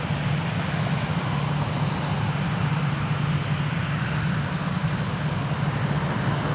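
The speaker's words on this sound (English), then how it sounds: "Here we have Air Canada 149 headed to Calgary on an A321" An Air Canada Airbus A321 bound for Calgary sits with its engines running at Toronto Pearson Airport, a steady, droning roar with a low hum, continuous and unvarying, with no voices.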